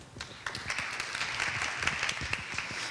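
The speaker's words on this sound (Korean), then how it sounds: "큰 박수 부탁드립니다" A hall audience applauds steadily to welcome a presenter at a briefing on the private school teachers' pension law revision: dense, continuous clapping from many hands, moderately loud, with no speech over it.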